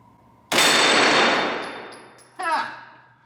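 A Glock pistol in a Meta Tactical Apex bullpup conversion kit fires one loud shot at about half a second, followed by the ringing clang of a steel flippy paddle target being hit, with a brief metallic rattle afterward.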